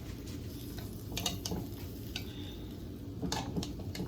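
A spoon scrapes and stirs Mexican red rice in a pot, with a few scattered clinks and soft scraping strokes over a low background hiss.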